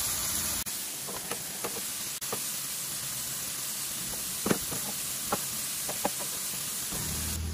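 Butter melts and sizzles with apple cider vinegar in a pan for buffalo wing hot sauce while chicken wings fry in another pan nearby, a steady hiss with scattered soft pops and crackles.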